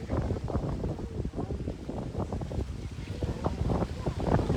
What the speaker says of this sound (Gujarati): પવન કેટલો સરસ આવે છે